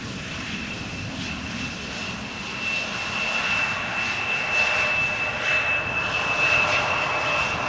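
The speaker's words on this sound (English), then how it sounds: "Embraer butt shot coming in." An Embraer jet airliner comes in to land at Amsterdam Schiphol Airport, its engine whine holding a steady high tone while the roar builds gradually louder over several seconds, heard alone without talk.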